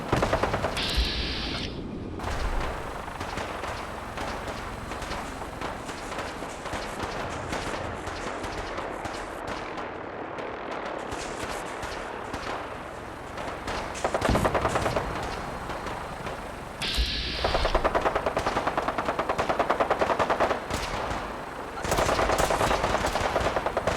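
Battle gunfire in the game Fallout 4 at Bunker Hill, dense bursts of machine-gun and rifle shots rattling almost without pause, loud and close, with a few brief lulls and occasional booms.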